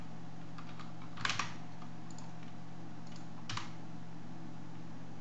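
A few quiet keystrokes on a computer keyboard click in two short clusters against a steady low hum, faint and close.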